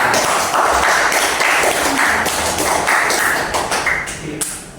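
Children in a classroom clapping hands together, a dense burst of many small claps close by, loud at first and fading out toward the end.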